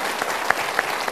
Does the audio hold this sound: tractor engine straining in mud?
no